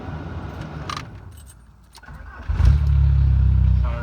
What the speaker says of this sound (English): Let me start this up.